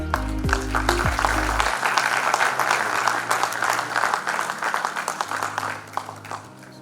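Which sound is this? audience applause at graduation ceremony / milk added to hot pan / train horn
audience applause at graduation ceremony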